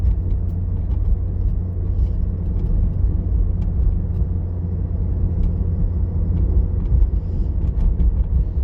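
A car rolls along a city street on Sukhoiarska Street during a practical driving exam, a steady low engine and road rumble that stays loud and even throughout, with no voices.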